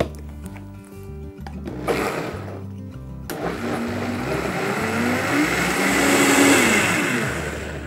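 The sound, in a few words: blender blending sauce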